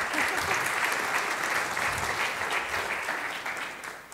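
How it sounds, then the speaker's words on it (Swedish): An audience at a competition opening welcomes a guest with dense, continuous clapping, moderately distant and slightly fading over a few seconds. "En applåd för Alice."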